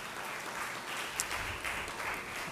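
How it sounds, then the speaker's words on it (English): An audience at a philanthropy gathering gives steady, moderate applause with no one speaking over it. "a round of applause, please, for folks that give up their time"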